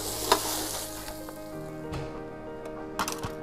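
Vegetables tip into a hot pan and sizzle loudly up close. A few sharp clatters and stirring knocks punctuate the steady frying hiss.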